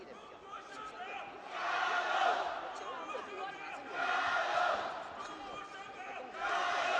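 A home crowd cheers at a women's 60 kg sanshou bout between China and Vietnam, with roars swelling in three loud waves over a constant arena murmur.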